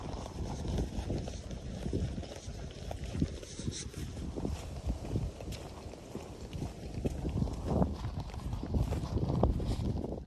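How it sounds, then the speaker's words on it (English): Horses moving along a path near Kinver Edge in Staffordshire, their hooves giving a steady clip-clop under continuous wind and outdoor noise, moderately near and fairly consistent throughout. "there's a motley crew of animals there. Donkey, horses, sheep."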